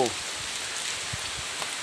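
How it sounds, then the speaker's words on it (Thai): Steady rain falls outdoors at a graveside, a dense, even hiss that holds for the whole stretch with no voices over it. "เนี่ยตอนนี้ฝนตกนะฮะ"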